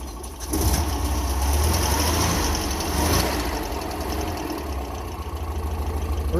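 A nearby engine idles steadily with a low, even rumble and a slight rhythmic knock, running alone without anyone talking.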